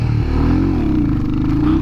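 Royal Enfield Hunter 350 motorcycle engine revving hard up close for a wheelie, a short loud rising growl with a rough, pulsing exhaust note.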